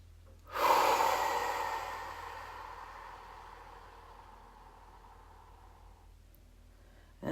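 A single long, slow exhalation during a sophrology relaxation exercise, heard close and fading gradually over several seconds before a fresh breath begins at the very end.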